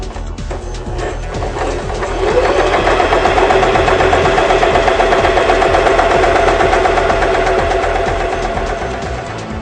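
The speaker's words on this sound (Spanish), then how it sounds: "Ahora vamos a iniciar una costura recta con el selector de largo de puntada en el número 2." A Janome 2012 sewing machine runs a straight stitch with a steady mechanical whir. It starts with a few clicks, then hums evenly and loudly up close throughout.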